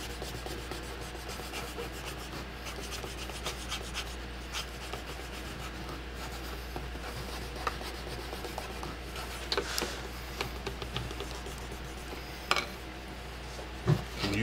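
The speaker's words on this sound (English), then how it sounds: "Take this rub stick and kind of feel the edge of that bar as you come around." A rub stick rubbing along the edge of a saddle tree bar while building a western saddle, continuous dry rasping strokes of wood on wood, close and steady with a few sharper knocks near the end, no voices.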